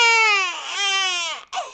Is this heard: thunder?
no